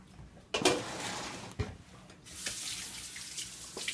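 Tap water runs into a kitchen sink while a razor clam is washed, a steady close splashing stream broken by clunks and shifting flow as the shellfish is handled under it.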